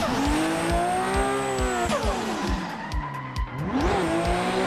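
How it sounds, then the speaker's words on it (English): A BMW E46 in the Assetto Corsa racing game understeers through corners, its tires squealing in long, wavering, pitch-sliding whines over a continuous revving engine drone. "I'm just gonna baby drift the entire course and understeer a lot"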